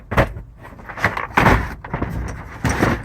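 Door panel of a 1979 Dodge Power Wagon 150 Round Up in a junkyard, handled in a series of close, hollow clunks and rattles with short pauses between, no talking.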